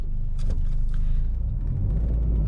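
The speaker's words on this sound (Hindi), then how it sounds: "जैसे कि अभी 20 और 30 की स्पीड देख सकते हैं गाड़ी हमारा चल रहा है।" A car rolls along at low speed, roughly 20 to 30 km/h, during clutch and brake driving practice, giving a steady, loud low engine and road rumble with no talking.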